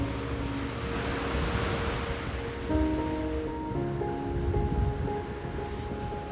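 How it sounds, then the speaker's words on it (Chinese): Ocean surf along the Sydney coastline: a steady, broad wash of breaking waves that rolls on without pause, with a faint tonal hum running beneath it. "一路上都能听到海浪的声音"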